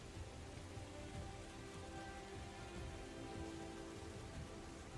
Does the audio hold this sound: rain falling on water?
yes